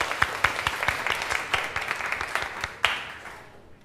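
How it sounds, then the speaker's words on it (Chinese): A church congregation claps in welcome, a burst of many hands applauding together at moderate distance that swells briefly and then fades out. "好，我们拍手。"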